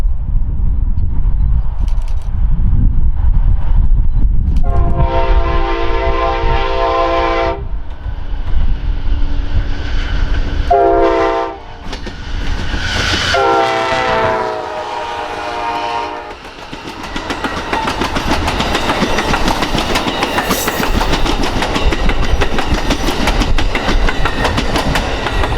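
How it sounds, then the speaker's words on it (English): Amtrak's Southwest Chief, train number 4 bound for Chicago, rumbles past on the classic Santa Fe line in New Mexico. Its horn sounds in several loud blasts, then a heavy roar of the passing consist swells and carries on to the end. "here comes train number 4 bound for Chicago"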